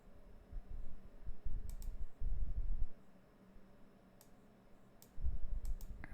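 A computer mouse gives quiet, crisp clicks in short bursts, close and soft against a low room hum, with pauses between the groups of clicks.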